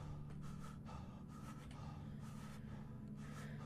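Heavy breathing in the video game Inheritance, repeated sharp gasping breaths in an uneven rhythm over a constant low background hum.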